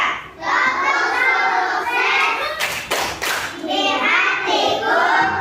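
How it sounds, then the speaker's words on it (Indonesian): A class of schoolchildren performs a rhythmic clapping chant, bursts of patterned claps and thumps mixed with children's chanting voices, close and lively in a classroom. "supaya semangat kita tepuk sukses dulu ya"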